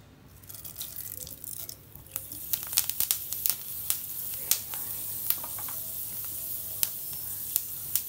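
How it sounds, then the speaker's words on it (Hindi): Fenugreek seeds hit hot oil and sizzle, a faint crackling hiss with scattered sharp pops and spits throughout, fairly quiet and without talk. "ये तेल हमारा गरम हो चुका है, तो इसमें हम छोटी चम्मच मेथी के दाने डालेंगे।"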